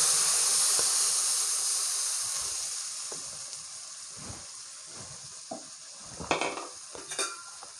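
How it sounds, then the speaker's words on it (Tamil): Ground masala fries in oil for a village fish curry, sizzling strongly at first and then fading, with occasional light clinks and scrapes of stirring in the pan. "மசாலாவை நன்கு வதக்க வேண்டும்."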